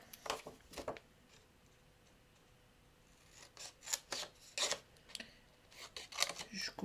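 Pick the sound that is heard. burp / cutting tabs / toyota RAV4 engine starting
cutting tabs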